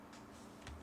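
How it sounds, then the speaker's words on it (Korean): Computer keyboard keys tapped while entering an AutoCAD command, a few faint, quick clicks near the end over a low background hum. "O를 입력하고 엔터 클릭"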